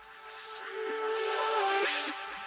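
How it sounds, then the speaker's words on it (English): Dark house track with a vocal sweep: a tonal, filtered vocal glides and swells over about two seconds, bright noisy highs opening up mid-clip, playing alone at moderate level with no talk. "and then we have an obvious vocal sweep."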